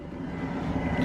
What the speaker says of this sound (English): The noise you can hear is the heater